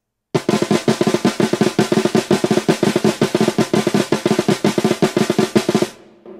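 Very fast, relentless drum hits from robotic drumsticks playing a polyrhythm, in a tight, uneven-accented pattern, loud and close, stopping abruptly near the end.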